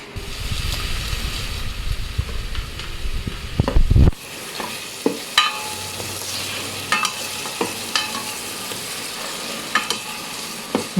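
Pork sizzles and fries in butter in a single pot for Filipino adobo pasta, with a steady, close hiss and occasional stirring clinks and scrapes.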